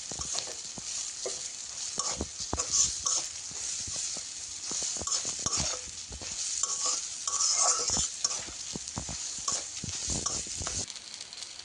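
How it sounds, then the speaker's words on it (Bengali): Grated coconut and shrimp stir-fried in a pan for a banana-flower fry, with a steady sizzle and frequent scraping, clattering strokes of a spatula against the pan, close and continuous without talk. "এটাকে দিয়ে ভালো করে নেড়ে চেড়ে নিতে হবে।"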